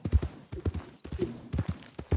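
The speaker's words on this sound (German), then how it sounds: "Ja, mein Pferd." Horse hooves clip-clopping in Red Dead Redemption 2, a steady trotting rhythm of close, dull thumps on the ground, repeated evenly over a couple of seconds with no talk.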